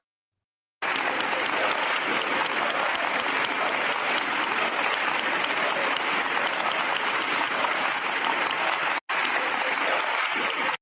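Sustained applause from a large audience at a political event honoring José Luis Rodríguez Zapatero, dense steady clapping running loud and unbroken for about eight seconds with a brief pause before it resumes.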